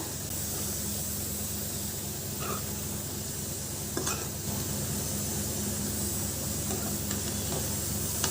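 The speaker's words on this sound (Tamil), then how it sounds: "அது இந்த பிரியாணி மசாலாவோடு சேர்த்துக்கிறேன் சேர்த்துக்கிட்டு இதனோட நல்லா மிக்ஸ் பண்ணிக்கிறேன்" Seeraga samba rice being stirred into biryani masala for mutton biryani, a steady soft scraping and rustling with faint sizzle throughout, close and continuous, with a couple of brief clinks.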